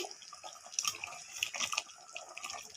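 Water splashing and trickling into a pan of chicken curry as it cooks, a short run of faint, uneven pouring and dripping sounds heard on their own.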